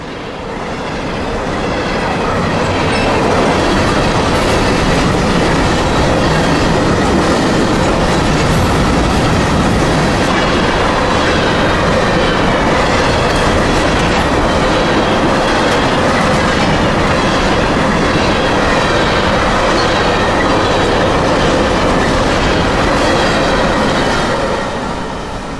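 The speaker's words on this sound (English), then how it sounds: "Then 96 empty phosphate hoppers off the CN at Chicago headed for Mulberry Yard in the Bone Valley." A long freight train hauled by a single BNSF C44-9W locomotive, with 96 empty phosphate hoppers, rolls past in a loud continuous rumble of wheels clicking over rail joints with faint squeals, swelling and holding steady.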